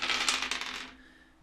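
A handful of dice rolled together during a tabletop game session, a bright clattering rattle lasting under a second before quickly settling into silence.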